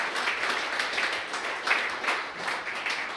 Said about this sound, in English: Can I please get a round of applause for our sponsors today?